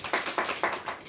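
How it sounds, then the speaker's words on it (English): A small audience gives a brief round of applause, a few distinct rhythmic claps heard close and clear over about a second. "you can give him a round of applause"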